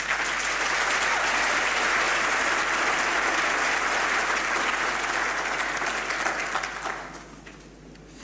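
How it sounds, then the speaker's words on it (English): Graduation ceremony audience gives a large hall full of dense, roaring applause for academics, loud and sustained before fading away near the end. "I want us to give our academics a big round of applause"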